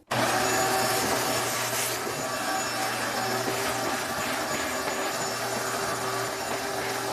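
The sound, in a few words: vacuum cleaner cleaning a subfloor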